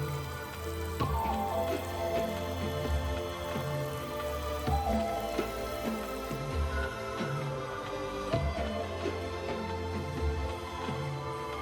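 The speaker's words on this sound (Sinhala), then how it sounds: "පැළයකට වතුර දෙනවා" Water splashes and trickles onto a plant and soil at a planting, with an irregular patter and light drips, steady and fairly close, with no voices.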